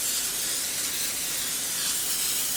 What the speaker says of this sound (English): And then we're going to give it a good spray.